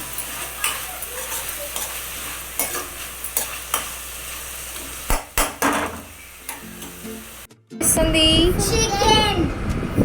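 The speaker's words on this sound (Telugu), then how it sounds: "ఇవన్నీ వేసుకున్న తర్వాత ఒక్కసారి కలపాలండి" A spoon scrapes and stirs chicken curry with mint, coriander and curry leaves in a pan, rhythmic metallic knocks over a soft sizzle, followed by louder frying noise near the end.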